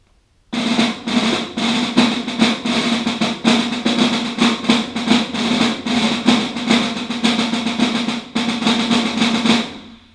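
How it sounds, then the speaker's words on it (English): Snare drum playing concert-style rolls within a rudimental marching piece, a dense sustained buzz broken by short accented strokes and brief gaps, close and loud, with no voices. "So that's what the concert style rolls sound like in a marching style piece"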